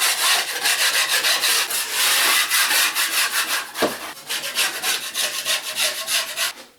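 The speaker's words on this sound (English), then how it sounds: "I just like going over it with a knife, pick off any humps, bumps, or knife" A drywall knife scrapes over dried base coat of joint compound on an archway, making close, loud, rhythmic rasping strokes in a quick back-and-forth series with one brief pause.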